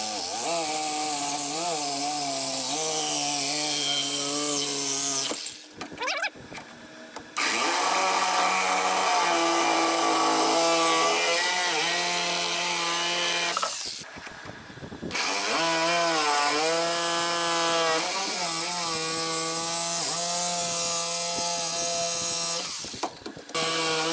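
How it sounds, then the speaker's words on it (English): A Sawzall reciprocating saw cuts through the steel steering beam of a 1960 VW Beetle, loud and close, its whining buzz rising and falling with each stroke, broken by two short pauses. "I'm going to grab that Sawzall and cut that off."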